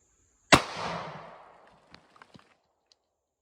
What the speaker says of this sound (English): I'm finna sling these goddamn Winchester's nickel-plated SilverTips